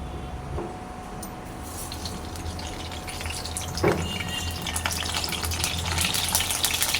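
Constant hiss and crackle of eggplant frying in oil in a kadai, gradually swelling a little louder, with one brief clank of utensil against pan midway.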